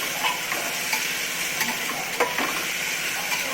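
Chopped tomatoes going into a hot pan for masala rice, a steady sizzle broken by occasional spoon scrapes and stirring knocks, close and fairly loud with no talking.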